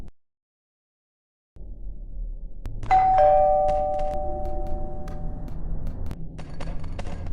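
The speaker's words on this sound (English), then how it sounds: "That's the doorbell fixed." A newly fixed doorbell rings a clear electronic chime after a stretch of silence, then lingers over a steady indoor background hum with small knocks and clicks.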